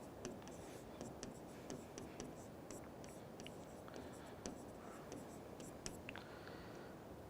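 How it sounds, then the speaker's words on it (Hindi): Pen or chalk writing station names by hand in a Rajasthan current-affairs lesson, a steady run of short scratchy strokes with small taps, close and quiet, no talk over it. "बाकी के और कौन कौन से हैं मैं उनके नाम भी लिख देता हूँ"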